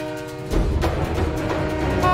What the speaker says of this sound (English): There's a train coming! You not hear that horn?